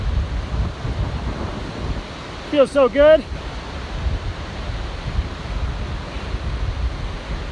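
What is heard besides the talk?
wind blowing on a mountain pass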